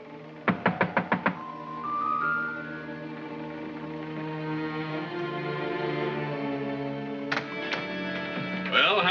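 A rapid series of about six sharp knocks on a door opens the scene, then a sustained musical score takes over, with a few more thuds near the end.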